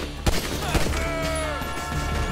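Gunfire in Grand Theft Auto V during a bike-thief story mission, a few sharp shots near the start followed by rattling bursts under a droning game soundtrack.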